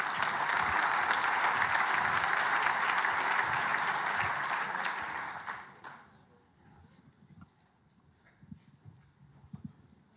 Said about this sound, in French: donc applaudissez-vous.